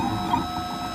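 A 3D printer lays down the skirt outline before a print, giving a steady close whirring of stepper motors with a faint tonal whine and slight rhythmic warble, unbroken by talk.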